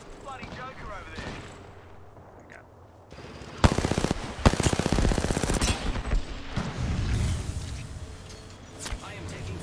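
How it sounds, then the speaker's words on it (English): Gunfire in the video game Apex Legends, bursts of rapid automatic shots and sharp cracks starting midway and continuing loudly, with a player talking earlier. "I am taking fire"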